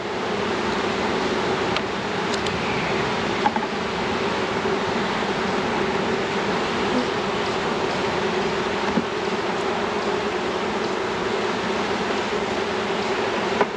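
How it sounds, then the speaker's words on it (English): Honey bees from newly installed packages swarming over drawn comb at a hive in early season, a dense, continuous buzzing hum that stays steady and close throughout. "There's too many bees on there."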